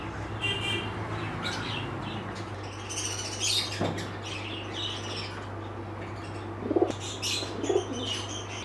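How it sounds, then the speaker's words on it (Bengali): A male pigeon coos in low, soft bursts close by, mixed with chirps and squawks from other birds and a steady background hum. "এটা হচ্ছে নর পায়রা আছে"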